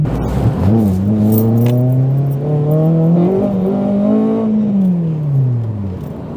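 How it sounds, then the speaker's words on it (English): A car engine cold-starts and revs: a loud, close tonal drone rises in pitch, holds at a high idle for several seconds, then slowly drops back down, with no voices. "Yeah, that's a proper proper cold start"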